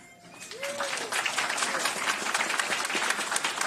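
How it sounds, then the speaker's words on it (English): Audience applause at a basketball award ceremony, a dense wash of many hands clapping that starts softly and swells to a steady, loud level, with a brief whistle-like tone near the start. "please give a warm round of applause to Chris Handles Franklin."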